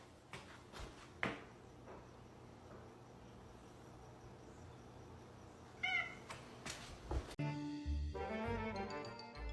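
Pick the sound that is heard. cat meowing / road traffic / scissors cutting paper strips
cat meowing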